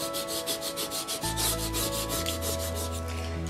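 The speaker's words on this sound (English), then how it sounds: "we're going to go over it really well with this burnishing tool." A burnishing tool rubs over a furniture transfer laid on an end table, giving steady rhythmic scraping strokes, close and fairly loud, with a low hum underneath and no talk.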